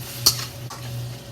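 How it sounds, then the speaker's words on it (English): Precooked shrimp is stir-fried in a pan: a single sharp utensil clink against the pan rises over a steady low hum and faint frying noise. "Now we're cooking the shrimp."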